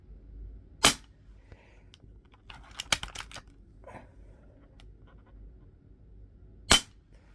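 Crosman PSM45 BB pistol with a slide cocking action, heard as two sharp, loud shots several seconds apart with soft clicks and handling noises between them, close up and with no talk.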